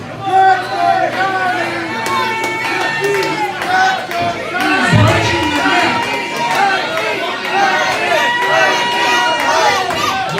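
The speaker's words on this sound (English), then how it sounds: "The crowd starting to get behind Lightning." A wrestling crowd at a James Lightning vs Prince Kanu match cheers and chatters as the smaller wrestler fights on, a steady loud roar of voices throughout with a deep thump near the middle.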